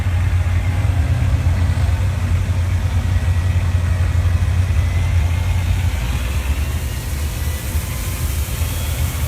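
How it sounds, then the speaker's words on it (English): A water truck's engine idles at a drag strip, a steady low rumble holding at constant level throughout with faint broadband noise above, no voices. "Water truck."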